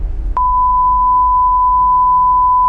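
A steady, loud censor beep tone cuts in over speech and holds unbroken to the end, masking a spoken street address on an Indonesian television drama.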